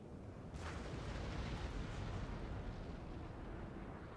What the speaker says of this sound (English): Spot on artillery.